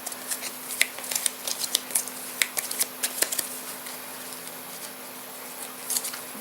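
Playing cards for the Castle Ravenloft board game are shuffled close by, making quick, soft riffling taps and light patter with no one talking.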